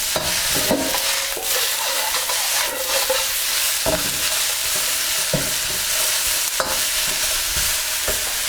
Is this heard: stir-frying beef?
yes